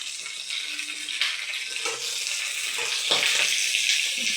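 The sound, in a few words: pointed gourd frying and spattering in nonstick pan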